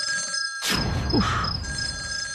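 A telephone rings in a Bengali children's cartoon during a power cut at night, a short ringing burst rising over a steady background hum and effects.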